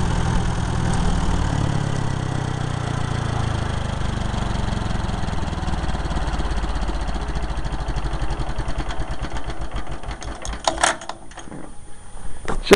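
A vintage Kohler 4 kW light plant generator engine chugs steadily up close, then its rhythmic beat slows and loosens as it shuts down, ending in a few mechanical clanks.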